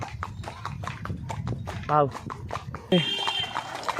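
A horse ride in the green valley near Kodaikanal, with hooves clip-clopping in a quick, steady rhythm close by while people talk over it.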